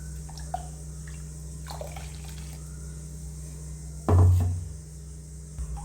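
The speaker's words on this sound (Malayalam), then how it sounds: "നമുക്ക് നമ്മളെ മിക്സിയുടെ ജാറൊക്കെ ഒന്ന് കഴുകിയിട്ട് അതിൻ്റെ വെള്ളം കൂടി വെച്ച് കൊടുക്കണ്ടേ" Rinse water from a mixer jar, still carrying ground masala, poured into a simmering dried shark curry: a short splashing pour around the four-second mark over a low steady background hum, no talking.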